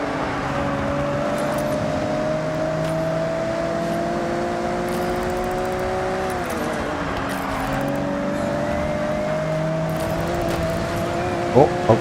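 Cars race in Forza Horizon 6, engines droning steadily up close with a rising tone, a brief dip as revs drop mid-way and then climb again, plus faint clicks and a sharp tap at the end.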